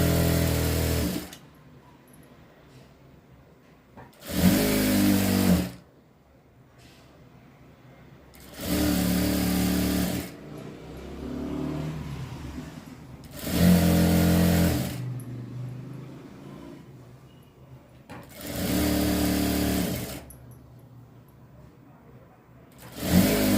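A sewing machine stitches a frock in five loud bursts of rapid whirring, each lasting one to two seconds, with quiet pauses between them.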